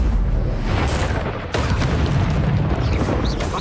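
A fire spell cast in the Hogwarts Legacy video game bursts out as a loud, dense whoosh of flame with a sharp boom near the midpoint, filling the whole stretch over a continuous rumbling bed.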